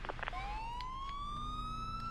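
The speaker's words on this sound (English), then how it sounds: "I'm gonna put my sirens on." A police car siren in the Grand Theft Auto IV video game starts up, a clear rising electronic wail that sweeps upward and holds over a low background hum for a couple of seconds.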